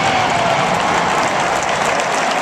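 Stadium crowd cheering and applauding at Michigan Stadium, a dense, loud, continuous roar of claps and voices that holds steady throughout without a break.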